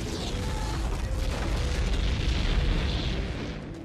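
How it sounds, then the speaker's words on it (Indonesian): A heavy, sustained explosion rumbles loud and close as an air strike hits a German Panzer tank in a war film, a dense roar lasting several seconds. "tiba-tiba ada serangan dari udara yang berhasil melumpuhkan panser tersebut"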